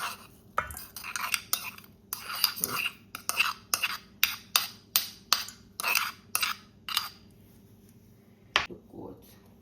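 A metal spoon scraping minced garlic out of a container while making Jamaican curried goat, a run of about a dozen sharp clinking scrapes in a steady rhythm, close and crisp, then a final single clink.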